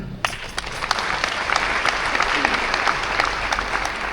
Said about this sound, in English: Let's clap for the conveyor.